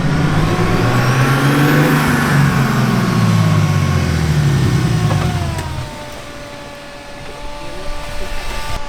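A loud turbocharged BMW E36 engine drones with a rising and falling tone, then eases off, leaving a steady high-pitched Garrett turbo whine and faint hiss.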